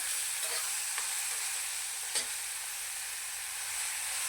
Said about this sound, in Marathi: ह्याला मस्तपैकी फ्राय करून घ्यायचं